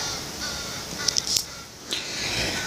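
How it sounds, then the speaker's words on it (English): A few faint, high cawing calls come from crows at a distance over a steady background hiss. "Do you hear those baby crows up there?"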